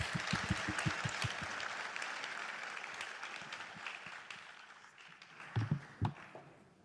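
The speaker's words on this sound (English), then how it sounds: "Please, ladies and gentlemen, a hand of applause," Scattered audience applause at a keynote address and fireside chat, with a few distinct claps at first, then a steady patter that thins out, and a couple of louder close claps near the end.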